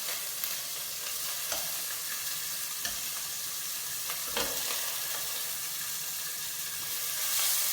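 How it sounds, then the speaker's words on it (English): Prawns sizzle steadily in a hot pan, a dense even frying hiss with a few soft knocks as they are turned over, close and continuous without talk. "So prawns. Okay, I'm going to flip them now."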